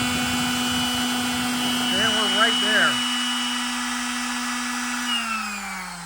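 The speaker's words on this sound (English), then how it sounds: "Let's try the handheld power tool," A handheld power tool runs off an AFERIY 2400W 2048Wh portable power station, giving a steady high motor whine with a brief warbling pitch change midway, then winding down slightly near the end.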